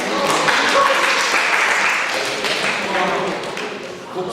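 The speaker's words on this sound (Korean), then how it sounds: "우리 박수 한번 주세요, 박수" Dense applause from a crowd, steady clapping throughout with a buzz of voices mixed in.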